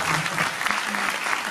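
Audience at a musical night clapping for themselves, a dense, steady wash of many hands applauding together without a break, close and full.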